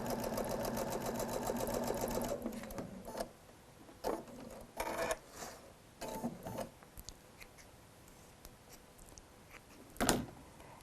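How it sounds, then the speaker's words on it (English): A sewing machine stitching a quarter-inch seam on quilt pieces runs in a fast, steady whir for about two seconds, then stops, followed by scattered clunks and taps of fabric handling up close. "Sew that seam."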